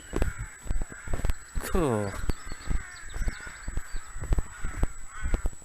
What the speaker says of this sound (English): Wonder if those crows think I'm filming them and that's why they're being big heads and shouting away.